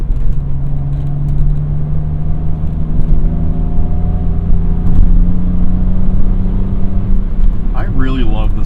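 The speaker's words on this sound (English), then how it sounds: "I really love the sound of this S52 engine." BMW M Coupe with the S52 engine driving, its steady engine drone heard from inside the cabin, rising slightly as it accelerates, with a person talking over it.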